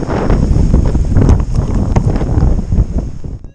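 Strong gusting wind roars across the microphone outdoors near trees during a rainy February outing, a loud, continuous buffeting rumble that surges and dips before easing at the end.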